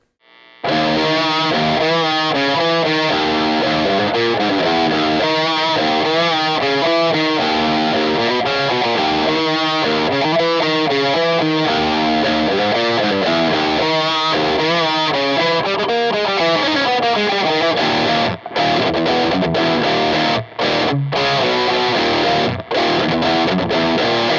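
A distorted electric guitar played through a MESA/Boogie JP-2C tube amp with its built-in reverb plays a continuous melodic riff with chords and sustained notes, loud and alone, with a roomy reverb tail.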